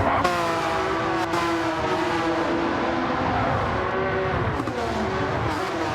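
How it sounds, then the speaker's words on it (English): A Porsche GT4 Cup six-cylinder engine in a racing game at the Nürburgring Nordschleife, blaring steadily from the cockpit with harmonic engine tones rising and falling through gear changes and faint tire squeal. "That 6-cylinder blaring through the cockpit."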